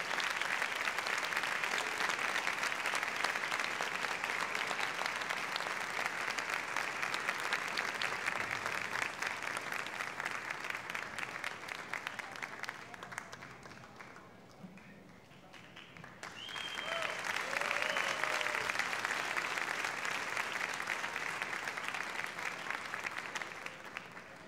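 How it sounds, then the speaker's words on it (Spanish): Sustained audience applause at a music awards ceremony, a broad steady roar of clapping that dips briefly partway through before swelling back up, with faint talk underneath. "Un aplauso para ti y para tu padre."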